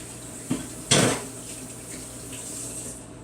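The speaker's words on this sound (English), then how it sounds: "I'm just going to come over here and rinse my hands off" Water runs from a kitchen sink tap as hands are rinsed, a steady close splashing stream following a couple of sharp clanks of dishes or utensils at the start.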